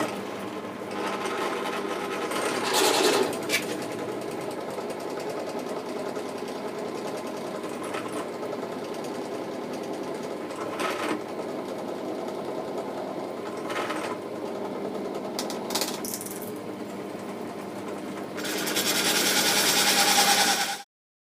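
A handheld router cuts freehand into wood with a steady, high-pitched motor whine under load, broken by short bursts and brief dips, then surges louder near the end before stopping abruptly.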